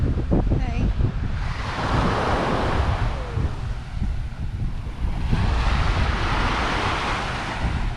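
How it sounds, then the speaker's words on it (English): Surf washes steadily onto a sandy beach in Key West, a broad continuous rush with strong wind buffeting the microphone, and a voice briefly heard near the start. "This is actually a sandy beach"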